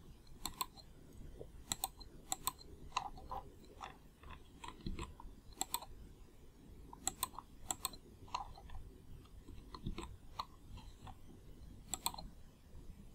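Computer keyboard keys clicking sharply in a loose sequence of taps, including an Enter key press, close and fairly quiet over a low background hum, with no talking.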